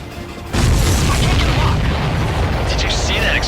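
A supply ship explodes in the Ace Combat 7 combat flight game with a sudden, loud boom after a brief lull, then a heavy, sustained rumbling roar that fills the rest of the moment.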